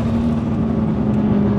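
A BMW E34 with a swapped 2.8i turbo engine roars loudly and close by, a steady droning engine note holding for a brief moment.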